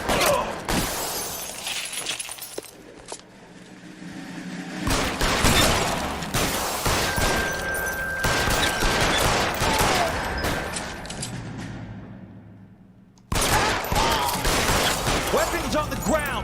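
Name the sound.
gunfire in shootout, video game L.A. Noire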